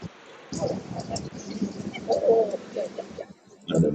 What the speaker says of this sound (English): I'm about to be attacked by a large flock of pigeons